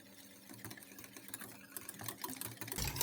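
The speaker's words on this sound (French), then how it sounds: "Et là on va fouetter de suite pour faire dissoudre la gélatine." A whisk beats gelatine in a bowl to dissolve it for a strawberry tiramisu, a quick busy clatter that runs steadily throughout at moderate volume and grows a little louder at the end.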